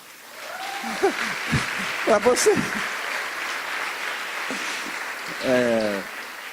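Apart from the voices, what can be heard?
congregation applauding at a church service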